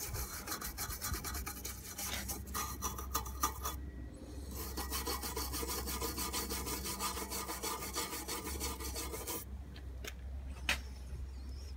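Corrosion is scrubbed off the metal chassis of a Fender Bassman 5F6a amp in steady, close rasping strokes that continue with only brief pauses throughout.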